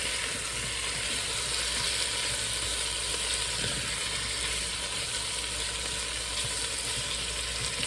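Potatoes frying with garlic and onions in a pan, a loud, constant, close hissing sizzle that holds evenly throughout with no voices.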